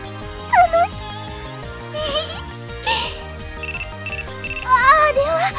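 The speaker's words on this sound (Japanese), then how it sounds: "いあー電話電源切るの忘れてた。" A mobile phone ringtone goes off in a Japanese audio drama, a melodic electronic tune repeating steadily while voice-like sounds rise over it at moments.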